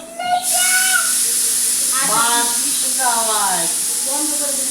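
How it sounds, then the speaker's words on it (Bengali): A pressure cooker releasing steam in a home kitchen, a loud continuous hiss running throughout, with voices talking over it. "এখন প্রেসার কুকারে আওয়াজ হচ্ছে।"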